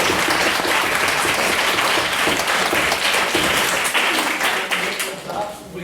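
Audience applause at the close of a formal debate on the motion that Black Lives Matter has done more harm than good, dense and steady clapping filling the room before tapering off near the end.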